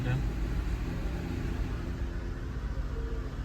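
A car engine idles and is held at a steady, raised speed, giving a low continuous rumble with slight fluctuations throughout.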